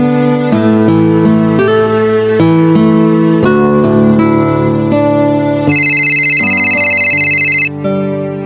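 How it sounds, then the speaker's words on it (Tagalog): A phone ringtone plays for an incoming call, a loud, bright melodic sequence of repeating electronic notes ending in a sustained high chiming phrase, with no talking over it. "Tumatawag na naman tong si Eka."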